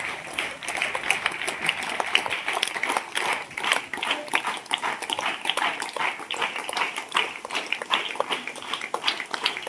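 Applause welcoming a student at a school gathering, with many hands clapping in an even, sustained patter that runs steadily throughout.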